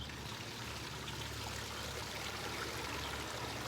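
Warm water pours steadily into a wheelbarrow holding coconut potting mix, a continuous faint gushing trickle with no breaks and no voices.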